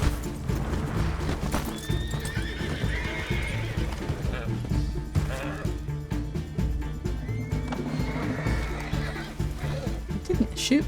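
Horses in Red Dead Redemption 2 whinny loudly several times over continuous hoofbeats and wagon clatter, near and busy for the whole stretch, with occasional faint voices underneath.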